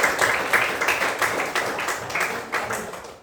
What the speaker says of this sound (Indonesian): Ya, tepuk tangan buat kalian.